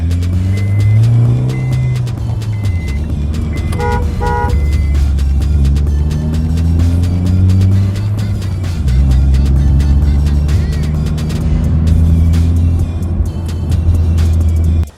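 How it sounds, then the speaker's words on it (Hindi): Honda City engine droning steadily from inside the car on a test drive after a clutch change, pitch rising and falling with gear changes, a few short horn-like tones near the middle. "हम फाइनली निकले हैं टेस्ट राइड के लिए"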